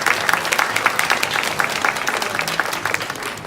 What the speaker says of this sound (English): Big round of applause for Nikki.